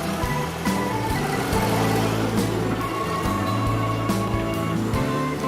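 A Case 580 backhoe's diesel engine runs steadily while digging into a hillside, a continuous low droning rumble with a few brief knocks and clanks on top, close and fairly loud with no talking.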